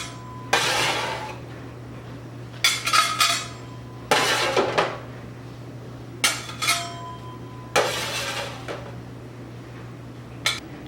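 Chocolate eclairs are moved from a baking dish onto a plate, giving a series of separate clinks and clatters of dish, plate and utensils, close and sharp, with quiet gaps between them and no talking.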